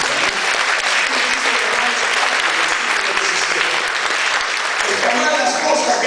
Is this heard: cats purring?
no